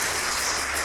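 Steady, dense applause from a large crowd at a mayoral candidate forum in Salem, a brief continuous wash of clapping with no voices over it.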